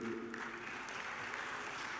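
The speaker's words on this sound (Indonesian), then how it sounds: "Tepuk tangannya meriah" Applause at a televised Indonesian political debate with Ganjar Pranowo and Rocky Gerung, a steady wash of clapping from the audience with faint voices underneath.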